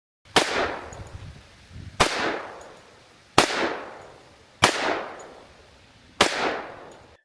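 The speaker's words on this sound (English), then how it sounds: "I got 5 shots loaded up in the pistol, and then we'll do 5 shots in the rifle." Five sharp, loud 10mm pistol shots ring out one at a time, spaced about a second and a half apart, each crack trailing off into a long fading echo outdoors.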